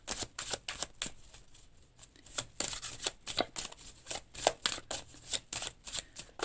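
A deck of tarot cards is cut and handled, giving a steady run of crisp, close, quiet card slaps and riffles at an irregular rhythm.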